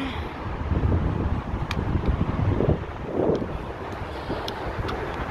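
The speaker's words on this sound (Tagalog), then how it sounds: "Mahangin naman po kaso nga lang mainit kasi nga summer pa." Steady wind buffeting the microphone outdoors near the Burj Khalifa in Dubai on a hot summer day, a continuous rushing roar with gusty swells and no clear talk.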